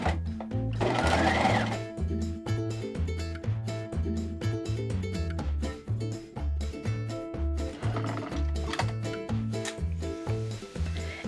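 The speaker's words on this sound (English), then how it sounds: "So now I'll stitch one more time like a plain seam, which means I'm putting my machine back to a 3 or to a stay stitch." A sewing machine runs a plain seam, with a backstitch at the start and end, in short repeated bursts of rhythmic whirring and needle thumps close up, with pauses between runs.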